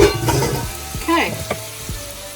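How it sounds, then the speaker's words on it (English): Vegetables sautéing in a pan for chicken sofrito, a loud close sizzle broken by several scraping stirs and utensil knocks, with no talking. "I'm going to saute these vegetables for about 3 or 4 minutes"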